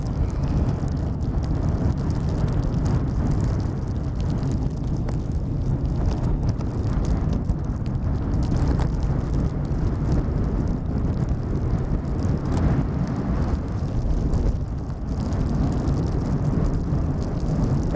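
Aircraft arriving on the Polderbaan, runway 18R at Schiphol, in stormy, windy weather: a steady, broad engine roar blends with heavy wind buffeting the microphone for the whole stretch, with no clear approach or fade.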